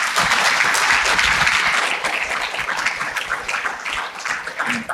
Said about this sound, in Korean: もしスピーチが良かったら、大きな拍手を今送ってみてください。